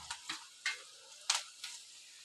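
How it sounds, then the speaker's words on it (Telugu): Prawns frying in a pan give off soft sizzling with a few light stirring scrapes and clinks spaced through the clip, fairly quiet and close, with no talk. "కొద్దిగా ఇంకొక 2 మినిట్స్ అండి, కొంచెం ఫ్రై అయిపోతే చాలు"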